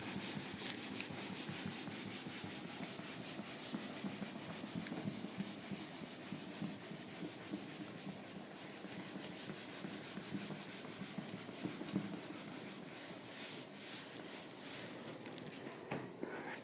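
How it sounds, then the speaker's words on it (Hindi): Marker or chalk writing on a board during a class 10 science lecture on refraction through a glass slab, a steady scratchy rubbing that runs continuously and fairly quietly with no talk over it. "मैं आपके सामने लिख दूँगा."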